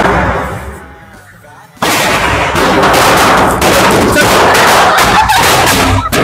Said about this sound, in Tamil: அடுத்த வெடி பத்த வைக்க போறோம்